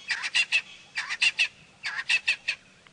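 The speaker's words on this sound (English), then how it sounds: "It looks like a Natal spurfowl that was making all that noise." A Natal spurfowl calls loudly nearby in repeated bursts of three or four harsh, cackling notes, each burst separated by short pauses.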